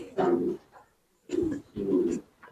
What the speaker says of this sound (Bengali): সব কালারের কবুতর এই খামারে আছে